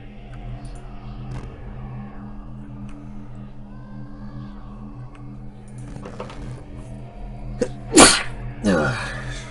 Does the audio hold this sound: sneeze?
yes